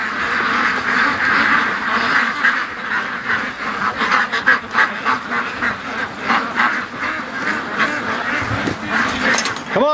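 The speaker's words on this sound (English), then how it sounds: "Come on, ducks, out you come." A flock of domestic ducks quacks continuously and loudly at close range, many overlapping calls in a busy chorus as they are let out through a gate.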